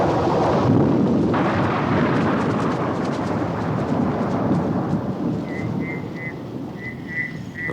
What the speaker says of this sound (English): But even the lions are unnerved by the fierceness of this storm.